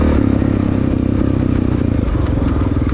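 1993 Honda XR600 dirt bike engine in an off-road race on East Fork Creek Road, a loud close pulsing exhaust that briefly changes pitch as it shifts out of first gear, with rattling and wind.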